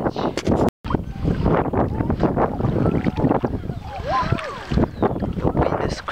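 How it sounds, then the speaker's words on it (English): Strong wind buffets the microphone in heavy, roaring gusts while fishing outdoors, continuing throughout, with a short dropout early on. "The wind is crazy today."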